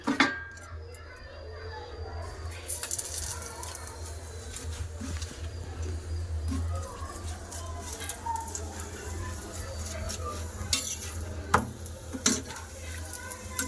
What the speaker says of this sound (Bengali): এবার ফলতিতে চেপে চেপে ভেজে নেবো